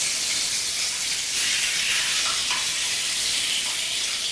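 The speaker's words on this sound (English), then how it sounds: "We want to be taking our Italian sausages and we want to be cooking those in there, in that nice butter" Italian sausages sizzle and hiss in a pan of butter and oil, a steady close crackling fry with no pauses and no voices.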